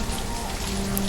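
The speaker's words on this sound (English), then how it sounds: "It's raining again." Steady rain falling in the village-building game Banished, a loud, even hiss with no talk over it.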